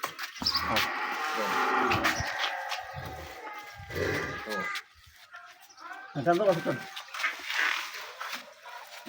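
A Sahiwal dairy cow lets out a few low, drawn-out moos, close by, with people talking around it in a busy outdoor setting.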